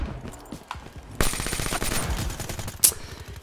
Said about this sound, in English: Shooting a guy in the back.